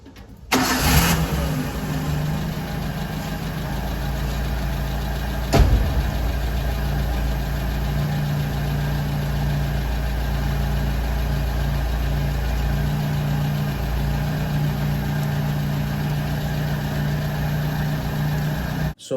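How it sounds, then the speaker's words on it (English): A 1999 Maruti Zen, just fitted with a new fuel filter, cranks briefly and starts, then settles into a steady close idle with a small rev bump partway through. "you need to turn the key to ignition multiple times to ensure that you prime the system"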